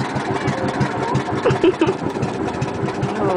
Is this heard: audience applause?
no